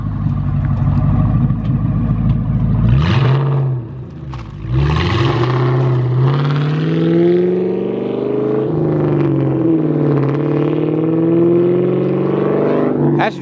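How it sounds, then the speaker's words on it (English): A 1999–2004 Ford Mustang GT with an aftermarket exhaust idles with a deep, loud rumble. It blips sharply a few times, then revs up and holds a rising, droning note, with the exhaust popping at the end. "That pop out the exhaust is really annoying."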